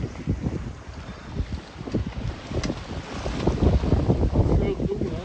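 A sailing boat under way off Greece near Poros and Spetses, with gusty wind buffeting the microphone and water rushing and slapping along the hull, loud and continuous.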